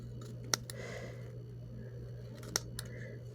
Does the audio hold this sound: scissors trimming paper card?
yes